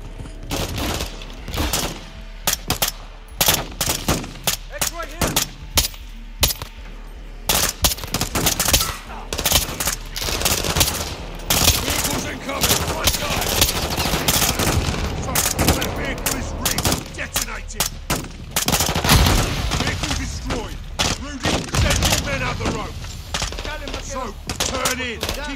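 Dense gunfire in Call of Duty: Modern Warfare 2, with rapid loud bursts and single shots almost continuous over the whole stretch, heavy and close, with game voices mixed in.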